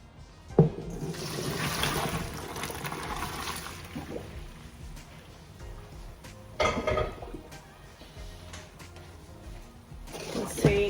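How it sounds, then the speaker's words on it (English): Cooked linguine is drained in a kitchen, water pouring and trickling from the pot, with a few clanks of the pot and pan mixed in and faint background noise. "So the linguine is now cooked, so I'm just going to drain this."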